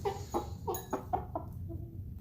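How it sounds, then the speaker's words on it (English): Several soft, close clucks from a chicken in a quick irregular series, fading into quiet low murmuring. "all these little noises and clucks"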